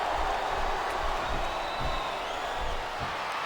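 Capacity arena crowd of wrestling fans in WWE SmackDown vs. Raw 2007, a steady broad roar of murmuring and cheering that carries on evenly throughout with no clear voices standing out.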